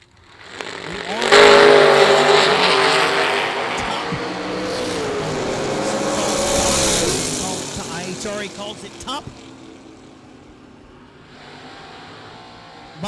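A 2009 S197 Mustang and a dragster launch side by side in a mixed-class Gambler drag race at the IHRA World Championships, their engines roaring loudly with a rising pitch and then fading down the track as an announcer talks over them.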